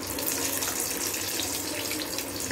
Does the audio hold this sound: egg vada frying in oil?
yes